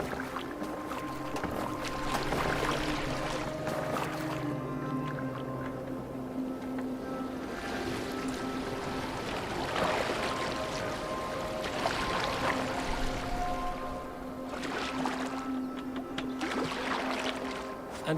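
A boat glides across water in Assassin's Creed Valhalla, with a continuous rushing, sloshing wash of water that swells and eases steadily across the whole stretch, alone and at moderate volume.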